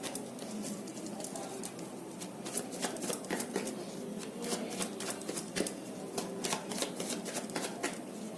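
Tarot cards are shuffled by hand in a quick run of papery riffles and flicks, repeated throughout at close range with no voice over them.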